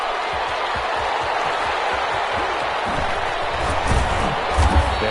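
A stadium crowd in the football video game Madden 21, a Carolina Panthers versus Atlanta Falcons matchup, giving a steady, loud roar of cheering and applause that swells slightly toward the end.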